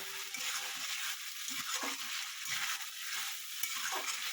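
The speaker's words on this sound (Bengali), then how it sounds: "এটাকে আমি ভালো মতন কষিয়ে নেব।" Fish roe curry sautéing in a pan, a steady bright sizzle of frying with intermittent scraping and stirring strokes of a spatula, close and continuous without speech.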